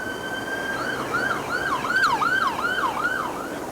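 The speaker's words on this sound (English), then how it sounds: "It was an ambulance." An ambulance siren wails past in a steady rising-and-falling pattern, loud and close, with faint road noise beneath and no voices.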